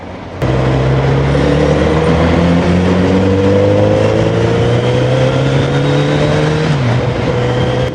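A Kawasaki Z900RS motorcycle engine drones steadily cruising at speed, its pitch holding level, then dipping slightly near the end, loud and close with wind noise.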